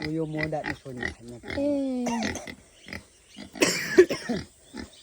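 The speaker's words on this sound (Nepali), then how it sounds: "उयो सुँगुर हेर्नु जाने देवाको सुँगुर" A pig grunts and snorts up close in short bursts, with people talking intermittently over and between the grunts.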